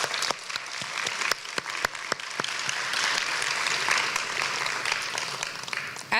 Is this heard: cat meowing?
no